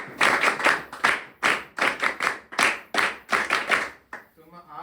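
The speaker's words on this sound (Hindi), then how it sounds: "तो एक बार इन कैडेट्स के लिए भी तालियां" A group of people claps for cadets at an Agniveer training event, producing loud, rhythmic bursts of hand claps with short pauses between them before fading out.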